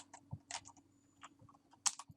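Fingers tap out a name on a computer keyboard, light scattered keystrokes in uneven bursts with a couple of firmer clacks, close and quiet, no voices.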